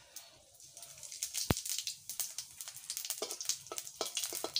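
Dried red chillies and whole cumin seeds spit and crackle in hot oil in a kadai, a sharp pop near the start followed by scattered, uneven sizzling crackles close by.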